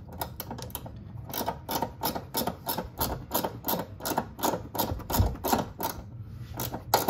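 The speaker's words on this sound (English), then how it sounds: "ratcheting this one back in." A ratchet wrench turns the upper control arm bolt back in on a 1997–2001 Honda CR-V, giving a fast, steady run of close, crisp clicks that continues throughout.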